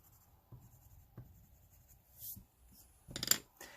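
Soft scratchy strokes of a pastel colored pencil on paper, a few light taps and rubs, then a brief louder burst of scribbling near the end.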